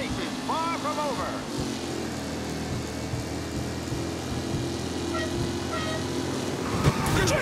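Race cars roar past in the video game Mafia Definitive Edition, a continuous engine drone with rising and falling whines as the pack passes, under a commentator talking.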